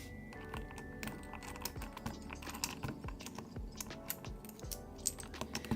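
Steady typing on a mechanical keyboard fitted with linear switches, a dense run of close, clacky keystrokes with no talk.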